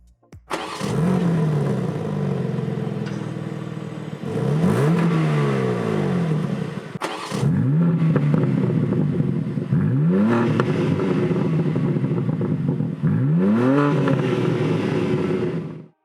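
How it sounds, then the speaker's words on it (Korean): A 2024 BMW M2 starts up in normal and sport modes, heard as a close, loud engine idling and repeatedly blipping its revs, with rising and falling sweeps every few seconds over a steady rumble. "지금처럼 시동을 걸었을 때 노멀 모드와 스포츠 모드 각각 소리가 다릅니다"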